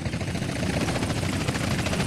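Russian military helicopters in a GTA San Andreas multiplayer battle, rotor thrum steady and loud throughout with a dense, churning low roar and no voices.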